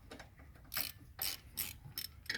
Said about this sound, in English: The easiest way to remove the rotor, you put the 2 M8 bolts in here and just tighten it.